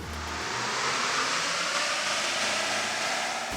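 A 2021 Ford F250 Tremor diesel pickup runs hard on a dyno, giving a loud, steady, broadband roar of engine and rollers that holds without a break from start to end.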